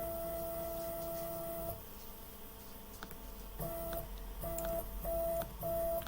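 A CNC machine's spindle is jogged down over the tool setter, a quiet motor whine with a sustained tone that breaks into several short stepped beeps as the axis moves in small increments.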